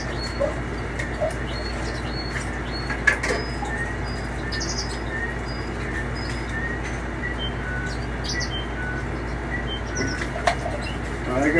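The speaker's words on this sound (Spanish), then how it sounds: "Pajarito toma agua en el bebedero" A small pet bird at a water feeder, with quiet fluttering wing flaps and soft chirps over a steady indoor hum.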